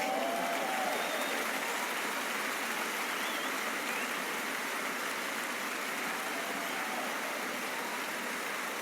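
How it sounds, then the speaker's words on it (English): Large audience giving sustained applause at a masterclass event, a dense, even wash of clapping that stays steady and uniform throughout, heard from some distance. "Give her an enormous applause."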